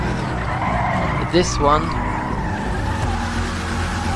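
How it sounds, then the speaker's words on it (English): A Gauntlet Hellfire muscle car in GTA Online slides around a corner with a short burst of tire squeal over a steady engine rumble, while someone talks over it. "from a standstill, foot down, around this corner, already sliding"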